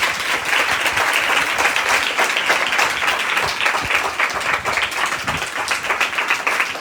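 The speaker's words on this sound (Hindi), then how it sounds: "आइए जोरदार तालियां खुदा की बंदी के लिए" A crowd at a Christian worship gathering applauds loudly and continuously, a dense, even wash of clapping from many people without a break.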